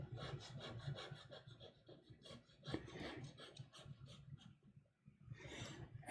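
Pencil shading a drawing of a hay bale with a back-and-forth sawing motion, giving a continuous dry graphite rasp on paper, close and fairly quiet, with strokes swelling and fading and no talking.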